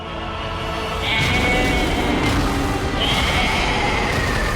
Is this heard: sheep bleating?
yes